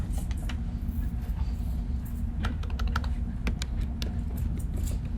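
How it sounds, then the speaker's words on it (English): Typing on a computer keyboard close up, with rapid irregular key clicks clustering in bursts over a steady low background hum, and no speech. "I'm going to type gradient"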